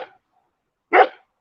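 One close, sharp bark from a dog near a tent, preceded by a brief trailing sound and separated by near silence.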